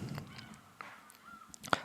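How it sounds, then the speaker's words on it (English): A single short, shrill seagull call from a video game rises out of faint, quiet background noise, with a few softer chirps just before it. "Seagulls."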